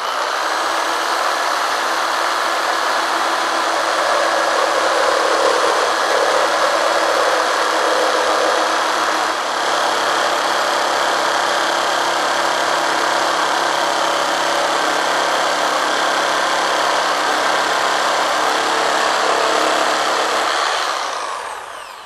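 Black & Decker KS900EKX jigsaw cutting wood at a set speed and pendulum action, a loud, steady high-pitched motor whine with rapid blade buzz that holds for about twenty seconds before winding down, no talking.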